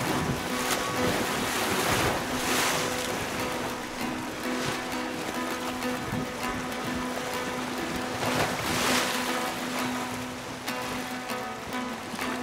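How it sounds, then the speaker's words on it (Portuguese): The pororoca tidal bore pushes river water upstream like a tsunami, making a continuous loud rush and roar of breaking waves and churning surf with steady wind noise throughout and no voices. "Milhões de metros cúbicos de água entrando sem parar, como um tsunami."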